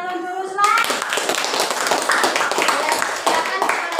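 A classroom of students clapping hands together during a lesson, a busy, close patter of many small claps that begins abruptly after a brief spoken moment and continues steadily, with children's voices mixed in.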